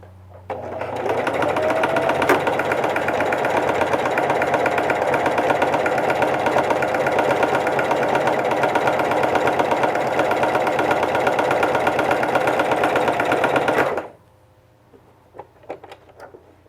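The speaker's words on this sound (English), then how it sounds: "Going to sew the other center seam." Sewing machine stitching the center seam of a fabric face mask: one loud, steady, continuous run of rapid stitching lasting about thirteen seconds, then stopping abruptly and leaving faint handling clicks.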